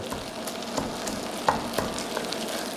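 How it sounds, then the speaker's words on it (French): Shellfish heads sizzle and fry in a pan for bisque while being crushed, a constant loud hiss broken by occasional dull scraping knocks as they are pressed down. "J'écrase bien toutes mes têtes."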